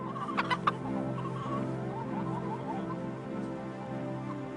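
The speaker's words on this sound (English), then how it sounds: "There are lots of birds on farms too, such as turkeys, ducks and chickens." A flock of farm chickens clucks and murmurs continuously at moderate volume, a few sharper calls standing out near the start over the steady chatter.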